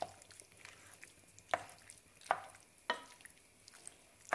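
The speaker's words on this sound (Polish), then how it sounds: "Tak na małym ogniu je gotujemy, od czasu do czasu mieszamy." A spoon clinks against a pan in slow, regular strokes over a soft, steady simmering bubble as plums stew over low heat. No one speaks.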